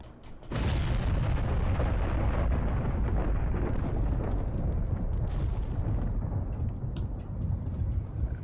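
A jet bombing strike erupts in a sudden heavy boom, followed by a long, loud, rumbling roar that slowly thins out.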